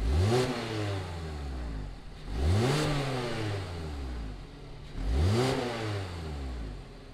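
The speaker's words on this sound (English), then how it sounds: "fire up the CX-30 and see what it sounds like" A 2020 Mazda CX-30's engine revs up sharply three times, each rise falling back toward idle, close and moderately loud, with no talking.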